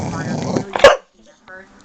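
A pet dog gives one sharp, close bark on command right after a person speaks, followed by a short silence and a softer vocal sound.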